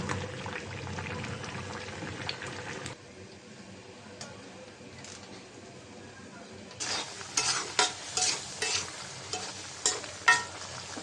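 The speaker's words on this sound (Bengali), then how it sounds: "এটাও কষানো হোক, তারপর মাছ দিয়ে দিব ঝোল দিয়ে।" Potatoes and tomatoes sauté in a pan for a fish curry, with steady sizzling and frying hiss. Stirring scrapes and clatters cut in sharply toward the end.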